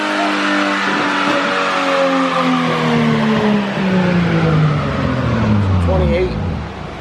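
A Lexus GS300 with a 2JZ-GTE turbo engine running 2.5 pounds of boost revs hard through a full-throttle pull, the engine note climbing then dropping with a gear change, loud and close inside the car, with an excited voice over it.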